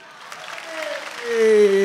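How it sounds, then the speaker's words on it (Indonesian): Studio audience at a Stand Up Comedy Indonesia show applauds comedian Kang Didi, the clapping swelling louder toward the end beneath a steady voice-like tone. "tepuk tangan buat Kang Didi."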